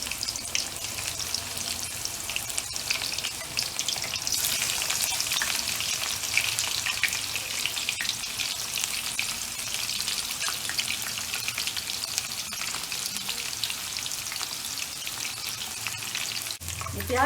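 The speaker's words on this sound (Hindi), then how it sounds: "इसमें हम अपनी प्याज को ब्राउन कर लेंगे" Onions fry in a quarter cup of oil for mash daal, a continuous dense sizzle and crackle with occasional stirring, close and steady throughout.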